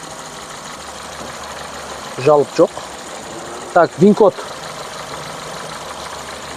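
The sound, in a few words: Honda Fit car engine idling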